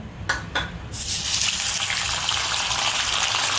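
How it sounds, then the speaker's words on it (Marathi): Paneer dropped into hot oil for frying in a home kitchen, opening with a few soft clicks before a sudden loud, steady hiss and sizzle that continues to the end. "तेल गरम झालेलं आहे, तेलामध्ये ना पनीर टाकायचं"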